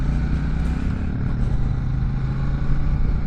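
A Royal Enfield Shotgun 650 motorcycle on a ride, its engine rumbling steadily and loudly throughout with continuous road and wind noise and no voices.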